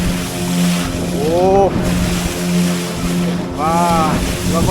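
A boat rumbles across Arabian Sea waves with a steady droning engine, wind and splashing water, while a voice gives short exclamations over the motor noise.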